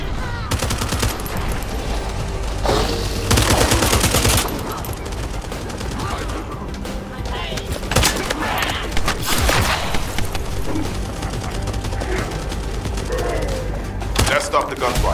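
Sustained bursts of automatic gunfire and booming impacts from a firefight in the shooter game The First Descendant, dense and loud throughout, with brief voice lines mixed in.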